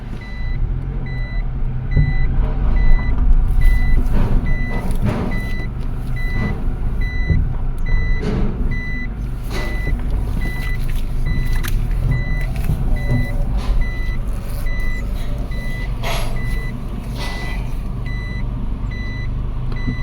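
A Mitsubishi Colt Plus reverses with a regular electronic reverse beep pulsing over a loud, close engine rumble that runs throughout.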